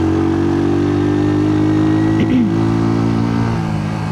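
A motorcycle engine labors in third gear on a steep mountain road, holding a steady low drone that wavers briefly and dips before settling into an even hum, heard close and without speech.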